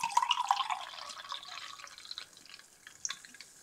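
Cold Lipton Sparkling Zero ice tea pours into a glass with light, close splashing and trickling that tapers off into faint fizzing drips over a few seconds.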